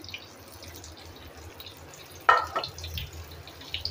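Brinjal slices, seasoned with chaat masala, fry in oil on a low gas flame. The pan is quiet until a sudden crackling sizzle bursts out, then keeps up in softer spits and pops.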